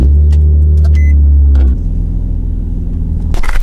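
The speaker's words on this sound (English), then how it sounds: "Quickly bring Shane's car out" A car, apparently an FRS, pulls out close by, its engine rumble loud and steady before dropping in level partway through, with a brief mechanical click and a rise of noise at the end.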